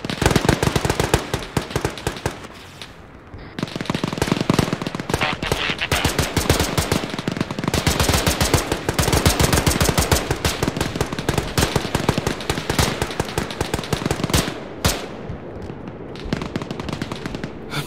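Rapid, sustained machine-gun suppressive fire in a war video game, loud and close, with dense bursts running almost nonstop and only a couple of brief gaps.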